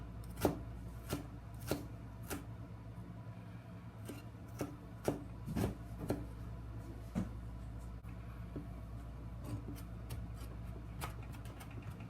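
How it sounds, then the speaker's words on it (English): Knife chopping ginger into small pieces on a cutting board, a run of sharp irregular taps, some close together and some spaced out, against a low steady hum with no talking. "If not too small, you can chop it to make it to small pieces."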